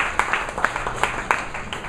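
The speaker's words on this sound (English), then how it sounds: "Big round of applause for Shilpa." An audience at a Toastmasters meeting claps in applause, a small group's brief, fairly close burst of scattered hand claps.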